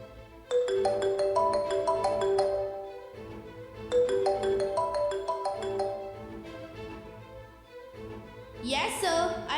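A phone ringtone in a school day stage play plays a bright melodic phrase twice in a row, moderately loud, before a voice speaks at the end.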